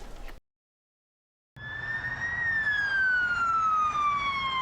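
A police car siren wailing loudly after a brief silence, a single rising then slowly falling tone sweep as the patrol car arrives on scene, with road rumble underneath.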